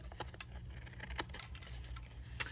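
Scissors trim the overhanging paper edges of a stamped greeting card in a quiet room, a short run of light, crisp snips and clicks close by, with no talking.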